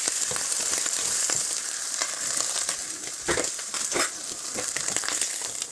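Slices frying in a pan, a steady close hiss and sizzle with scattered crackles and pops running continuously throughout.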